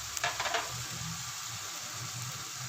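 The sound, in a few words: frying masala sizzling as spices are added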